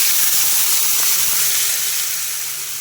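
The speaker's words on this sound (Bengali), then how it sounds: "তো আমি এখন এই যে লঙ্কা বাটা জলটাকে দিয়ে দেব।" Chili paste water poured into a hot pan of fried potatoes and garlic bursts into a loud, close hiss of steam that holds, then slowly fades.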